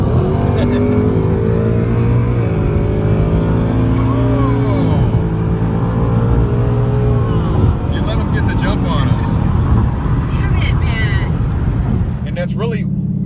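A Mustang GT engine revs and pulls hard during a roll race, a loud sustained drone with rising pitch sweeps under overlapping talk, easing slightly near the end.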